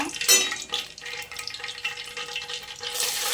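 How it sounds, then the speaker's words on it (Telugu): Black peppercorns and shahi jeera, along with cinnamon and cardamom, fry in hot oil for a drumstick-leaf chicken curry: a close crackling sizzle with stirring scrapes and a few sharp pops, and no voices. "మిరియాలు సాజీరా ఇవి కొంచెం బాగా ఏగాక"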